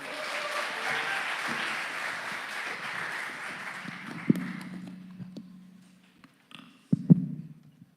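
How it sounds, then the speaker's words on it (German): A church crowd at a Pentecost gathering applauds a band, a steady wash of clapping that thins and fades out after about five seconds, followed by a few scattered knocks and thumps. "Ein Applaus an diese Banda."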